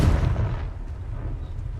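In the Hogwarts Legacy video game, a Confringo spell is cast and lands as a single loud, booming blast that fades into a rumbling tail.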